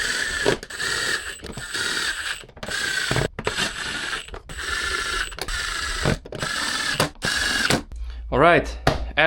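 A ratchet works during reassembly of a Yamaha R1 motorcycle airbox: rapid, loud bursts of ratcheting clicks in repeated strokes with short pauses, ending in a brief whirring spin.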